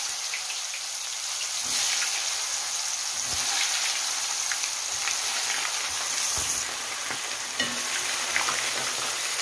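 Tomatoes and potatoes fry in a pan with sausage, giving a steady, dense sizzle and crackle with a few soft stirring knocks and no talking.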